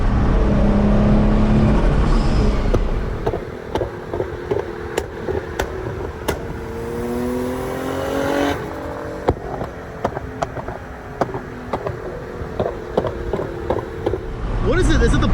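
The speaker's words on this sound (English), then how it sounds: "Is it the blow-off valve that just sounds that good, or is it like just because it's twins and it's just throwing it back and forth" Twin-turbo 570 hp Infiniti G35 coupe engine revving from inside the car, a sustained rising drone and turbo whistle, then it drops off, followed by ticking and fluttering blow-off valve sounds while people talk.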